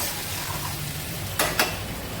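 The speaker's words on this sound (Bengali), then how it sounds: "আমি এখন এই যে ভেজে রাখা আলুগুলো এর মধ্যে দিয়ে দিয়েছি, এবার কষিয়ে নেব।" Potatoes and meat being stirred and sautéed in a pan, a steady soft sizzle with two quick scraping clicks of the spoon midway, close and quiet with no talk.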